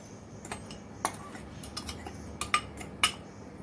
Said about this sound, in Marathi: ही खडीसाखर वाटलेली खडीसाखर याच्यात घालत आहोत